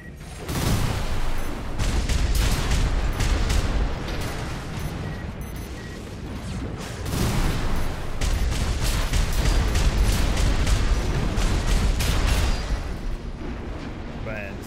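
Missile barrage in the mecha video game Armored Core VI, with dense overlapping booms and rumbling blasts that roll on almost continuously and swell again after a brief dip partway through.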